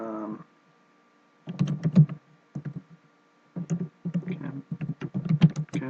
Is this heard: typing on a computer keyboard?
yes